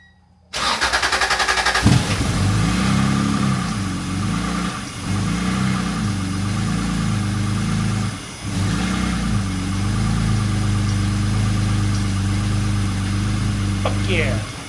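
A car engine, just readjusted and prone to stalling, cranks and catches, then runs with a loud, uneven idle that dips and recovers several times; people talk over the running engine.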